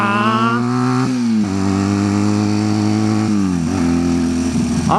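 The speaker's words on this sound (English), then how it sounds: "I am on a 1990 Honda Rebel 250." A 1990 Honda Rebel 250 motorcycle engine running steadily, a loud continuous drone that shifts pitch a few times as the revs change.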